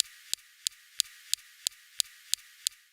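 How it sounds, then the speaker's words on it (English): Mars rover SuperCam laser zapping rocks, a faint series of sharp, evenly spaced clicks, about three per second, repeating in a steady rhythm over near silence. "Next, we have the SuperCam laser zapping rocks"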